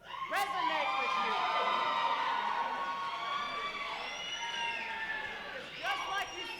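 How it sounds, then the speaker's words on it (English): Fans at a wrestling event cheer and shout together in a loud, sustained crowd roar with scattered whoops, while a voice speaks over the noise. "gonna let all of these cheering fans, for me, resonate with you"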